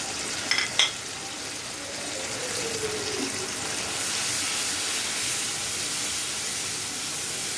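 Spices with fish, eggplant and potato frying in a pan, a steady close sizzle that grows slightly louder and continues without talk, with a few brief clinks at the start.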